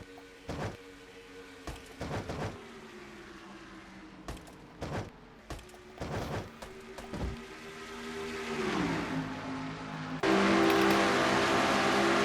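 Race car engines in a NASCAR-style racing video game: repeated sharp revving passes and a sustained engine drone that rises and swells louder toward the end, with no talk.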